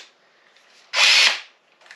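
A hole saw bites briefly into a Ford Econoline body panel to cut a marker light corner, a single sharp, loud burst of grinding lasting under half a second amid near silence.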